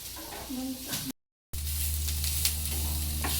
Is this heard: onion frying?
yes